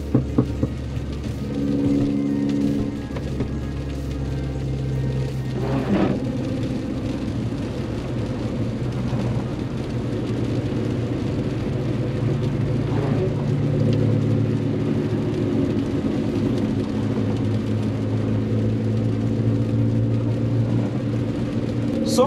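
Mini Cooper S cruising a snowy highway, its steady low engine drone and road rumble running continuously throughout, with no talk.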